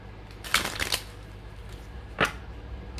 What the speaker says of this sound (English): I just split the deck and it kept on resisting the shuffle.